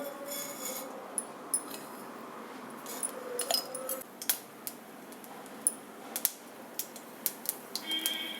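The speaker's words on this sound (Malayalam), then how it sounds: "കടുക് പൊട്ടി തുടങ്ങി." Mustard seeds splutter in hot coconut oil, making soft, irregular sharp pops that come more often toward the end over a faint background hiss.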